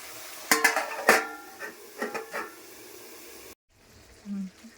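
A lid set on a cooking pot of chorchori, giving a few metallic clinks and clatters close by, then quiet.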